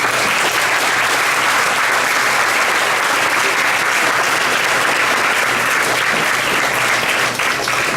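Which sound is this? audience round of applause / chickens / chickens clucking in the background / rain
audience round of applause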